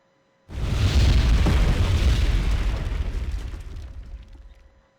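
Artillery shells exploding in a town in Wargame Red Dragon, a single heavy boom with a rumbling, crackling tail that fades slowly over several seconds.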